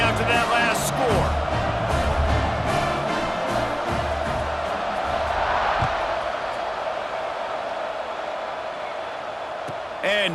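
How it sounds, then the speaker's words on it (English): Stadium crowd buzzing after a touchdown in EA Sports College Football 26, a steady loud roar of many voices under continuous play-by-play commentary. "this crowd is buzzing after that last score"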